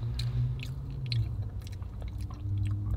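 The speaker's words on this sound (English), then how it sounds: "Chew that food" Close, wet chewing of Chick-fil-A food during a mukbang, steady rhythmic mastication with soft crunchy bites, heard alone without talk.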